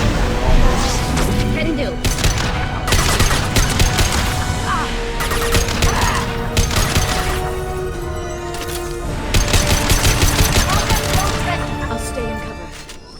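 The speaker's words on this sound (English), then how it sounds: "Taking fire." Rapid gunfire in the video game Mass Effect 2, with bursts of automatic shots and heavy booming blasts layered over one another almost continuously, loud and close, while brief character voice lines break through.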